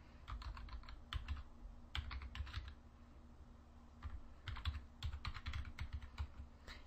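Rapid clicking keystrokes on a computer keyboard as an FTP host name, username and password are typed, coming in uneven bursts with short pauses, close and clear with no talking.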